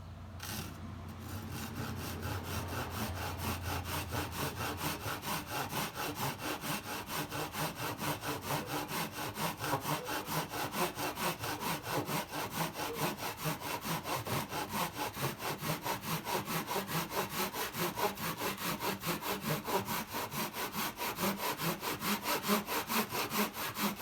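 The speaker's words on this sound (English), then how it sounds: "I started cutting the boards to size." Hand saw cutting scrap wood boards to size for a nest box, a long run of fast, even back-and-forth rasping strokes, close and steady throughout.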